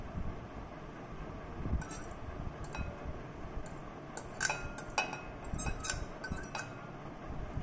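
Chopped capsicum tipped into a glass bowl for corn salad, producing a scatter of faint, light clinks and taps against the glass over a quiet background.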